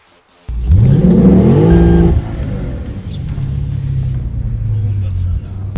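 A car engine roars up in a rising rev close by, peaks, then drops back to a steady, rumbling idle that carries on to the end.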